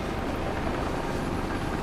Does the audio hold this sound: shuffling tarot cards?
no